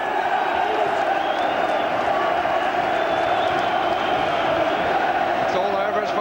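A football crowd in an Everton stadium roars and cheers continuously, a dense loud wall of voices with shrill whistles on top and a commentator speaking over it.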